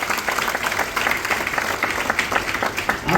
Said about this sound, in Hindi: एक जोरदार ताली सारे लीडर्स के लिए